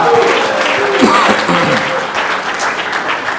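A congregation at a prophetic church conference bursts into loud, sustained applause, with cheering voices rising over the steady clapping throughout.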